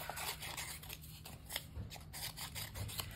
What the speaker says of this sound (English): And now I can cut them apart